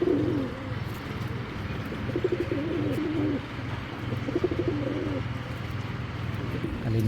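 Tournament game pigeons coo close by in soft, repeated throaty phrases over a low background murmur.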